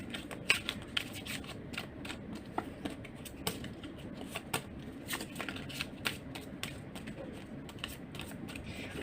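Tarot cards are shuffled in quick, crisp riffles and soft flicks, close by and fairly quiet, with rapid irregular snaps and no talking.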